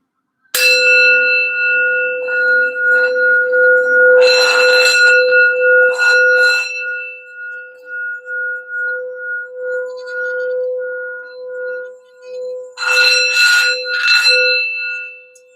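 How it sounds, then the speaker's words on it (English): A healing sound bell is struck several times, each bright, resonant strike ringing out in long, shimmering sustained tones that fade slowly between hits, with no talking. "I'm just going to do a quick sound bell for some general healing and grounding for the reading"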